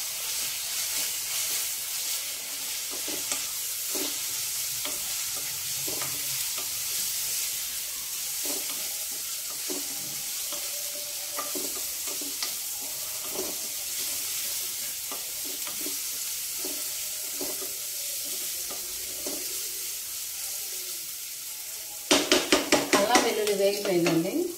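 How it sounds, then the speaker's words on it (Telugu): One spoonful of ginger garlic paste frying in a pan: a continuous close sizzle with scattered stirring clicks, ending in a louder burst of crackling spatter. "అల్లం వెల్లుల్లి పేస్ట్ 1 స్పూను చాలండి. ఇది కొంచెం వేగాలి."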